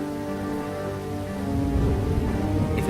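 Steady rain falls in the video game Lost Horizon, a constant soft patter that grows slightly heavier, layered over a sustained low tonal background.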